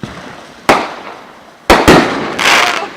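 Fireworks explode outdoors in three loud, sharp bursts spread over a few seconds, each blast followed by a crackling, fizzing tail, with no talking.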